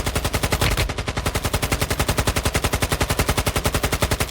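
Sustained automatic gunfire in the mobile shooter Warzone Mobile, a rapid, steady stream of loud, close shots rattling off without pause for several seconds.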